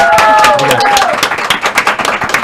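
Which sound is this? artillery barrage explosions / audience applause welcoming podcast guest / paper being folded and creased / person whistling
audience applause welcoming podcast guest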